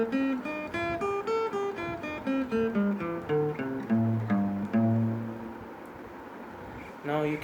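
A guitar plays a pentatonic scale backward through its positions, a steady, even run of single plucked notes stepping through the pattern before a final strummed chord.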